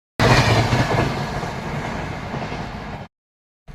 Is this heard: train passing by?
yes